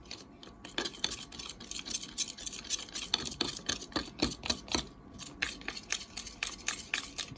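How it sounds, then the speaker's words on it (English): Vaseline and olive oil stirred together into a lotion, with quick repeated scraping and clicking strokes of a utensil against a container, close and fairly quiet. "then mix till it forms a lotion"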